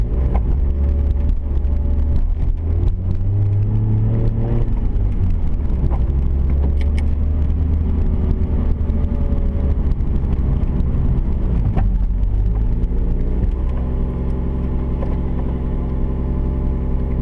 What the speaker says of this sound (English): I'm just driving through a school zone right now.